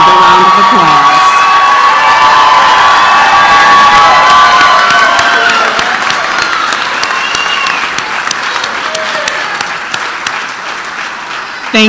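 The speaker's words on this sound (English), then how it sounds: "Let's give our graduates another round of applause." Loud sustained applause from a large audience at a nursing school graduation and pinning ceremony, with scattered cheers and whoops, gradually tapering toward the end.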